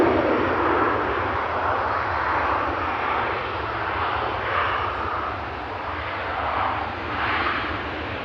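A Ryanair passenger jet arriving from Barcelona at Manchester Airport roars steadily with a broad engine rush that swells and fades slightly, heard alone without speech.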